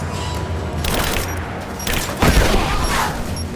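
Bursts of gunfire in the video game Rise of the Tomb Raider, loud and fairly near, with a heavy volley around the middle over a steady rumbling background.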